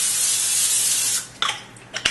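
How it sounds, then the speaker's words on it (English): Cooking spray hisses steadily onto a pan for about a second, followed by a couple of short, sharp clinks and bumps. "Take some olive oil, cooking spray, coat the pan"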